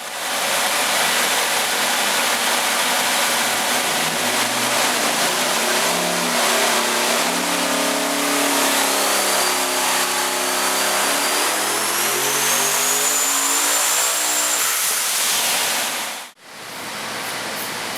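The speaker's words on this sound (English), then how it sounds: "Let's make some hits on a dyno here" A twin-turbo big-block Chevy V8 on a chassis dyno roars loudly and climbs steadily in pitch through a long full-throttle pull, with a rising turbo whistle near the top before it abruptly cuts off and then rumbles on briefly.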